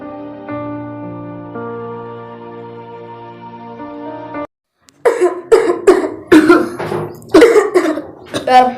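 A man in a short coronavirus public-service drama coughs repeatedly, a run of harsh, loud, close coughs following a stretch of sustained musical tones.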